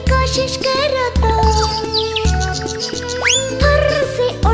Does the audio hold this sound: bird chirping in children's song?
yes